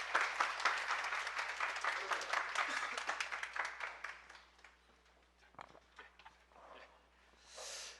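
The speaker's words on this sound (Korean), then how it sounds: "박수 한번 쳐주세요" Audience applause at a public lecture, loud dense clapping for the first few seconds, then thinning into scattered claps with some murmuring and a brief voice near the end.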